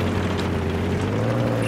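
A helicopter in Battlefield 3 gives a steady, dense rotor-and-engine roar, continuous and fairly close, with no talk over it.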